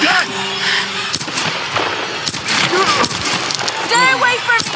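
Gunfire in the game Tomb Raider 2013: loud, sharp shots crack out in quick bursts among shouting voices and tense action sounds, close and dense throughout.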